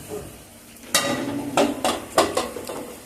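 Tomato pieces tipped into a pan of arbi root curry cooking in oil, then stirred, with a few sharp spoon scrapes and clinks against the pan over a soft sizzle.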